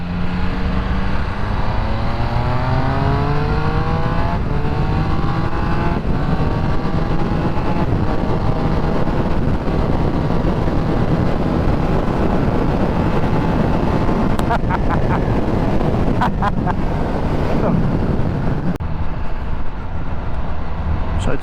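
A Triumph Speed Triple 1200RS motorcycle engine while riding, its rising and falling engine note sweeping through gears beneath heavy rushing wind noise, with a rider's voice speaking over it.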